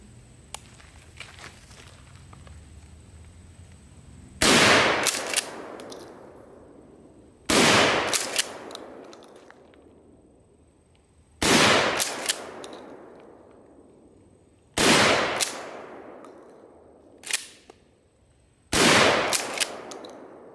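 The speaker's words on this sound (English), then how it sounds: "the gun firing down to the target" A Mossberg Model 88 12-gauge pump shotgun fires downrange at a target, six loud, close booming shots spaced a few seconds apart, each with a ringing decay and faint handling between.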